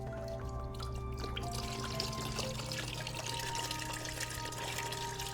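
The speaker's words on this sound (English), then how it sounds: "So now that the fluids are drained" Fluid drains steadily from a Kawasaki ZX6R motorcycle being parted out, a continuous close trickle and pour that runs without a break and without talking.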